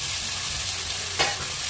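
Boneless chicken pieces sizzle steadily in a hot pan while being stirred, a constant frying hiss with one brief scrape of the spoon near the end.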